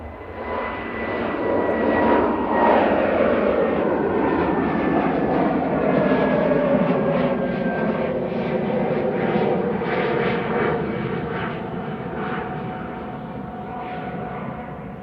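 Airliner passes at Manchester Airport with a loud, sustained engine roar that swells and slowly shifts in pitch, a whining tone gliding downward as it moves by, with no talk over it.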